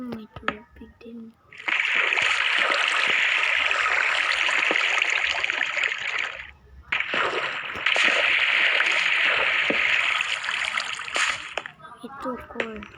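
Minecraft water flowing in two long, loud bursts of rushing splash and trickle that cut in and out, with a young voice speaking briefly before and after.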